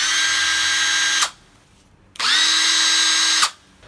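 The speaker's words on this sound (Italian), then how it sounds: "Passiamo ora all'avvitatore ad impulsi." A Teccpo cordless impact driver runs in two loud, steady bursts of high whine, each a little over a second long, with a short silent pause between them.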